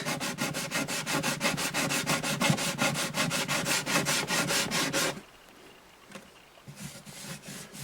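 Sandpaper rubbing on the rosewood bridge of an Alvarez Artist AD65 acoustic guitar: steady, close, rhythmic back-and-forth strokes for about five seconds, then quieter, sparser scratching.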